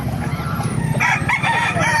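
A ten-month-old fighting rooster crows loudly and close by at a gamefowl breeders' gathering in Baliuag, Bulacan, one strained call over a low murmur of background noise.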